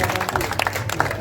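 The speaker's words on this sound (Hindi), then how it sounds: "उसका जोरदार तालियों से इस्तकबाल करें" A crowd at a political rally applauds with dense, continuous clapping mixed with crowd noise and voices, loud and close.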